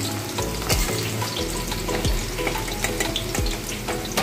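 Potato pieces fry in hot oil for a Bengali jackfruit and prawn curry, giving a steady, dense sizzle with occasional sharp crackles and clinks throughout, close and fairly loud, with no talking.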